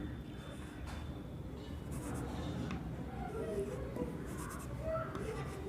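A pen moves over paper while chemistry notes are written, quiet scratchy strokes coming in short bursts under soft background room noise.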